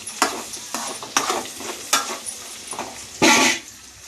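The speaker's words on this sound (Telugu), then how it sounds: "దొండకాయ కర్రీ అయితే చేస్తున్నా నేను" Ivy gourd curry being stirred in a frying pan, with a utensil scraping through the vegetables in a handful of short, fairly close strokes, and one louder, longer scrape near the end.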